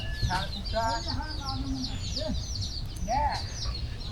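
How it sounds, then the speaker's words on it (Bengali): Chickens clucking and calling in short bursts in a garden outdoors, with birds chirping faintly in the background. "মুরগিতে খুব ডিস্টার্ব করতেছে বাগানে"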